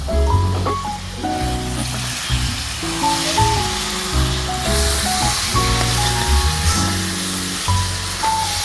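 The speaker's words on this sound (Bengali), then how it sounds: "পেঁয়াজ আর আলু একসাথে আমরা ভালোভাবে নাড়াচাড়া দিয়ে লাল করে নিব" Sliced onions and potatoes frying in oil in a pan while being stirred, a continuous close sizzle with scraping and stirring noises throughout, no talking.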